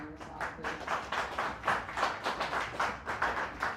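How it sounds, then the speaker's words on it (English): A small group clapping at a casual beer-and-climate-talk gathering, with distinct rhythmic claps recurring through a fairly quiet round of applause. "Give Matt a round of applause, please."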